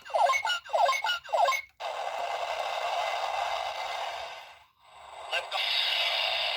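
A Buzz Lightyear action figure plays its electronic flying sound effects: a few short chirping bursts followed by a long, hissy whooshing tone that dips briefly and then resumes, small and tinny from the toy speaker.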